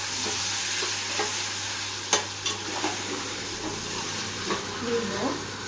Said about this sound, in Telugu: టమాటా ముక్కలు వేసిన తర్వాత ఉప్పు పైనుండి వేసుకొని కొద్దిగా మగ్గనివ్వాలి